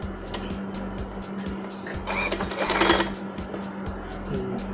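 Sewing machine stitching a folded cloth strip into a thin cord, a close, quick, regular pulse of needle strokes with a brief louder burst partway through and no talking.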